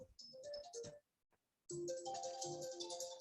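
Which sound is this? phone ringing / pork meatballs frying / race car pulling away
phone ringing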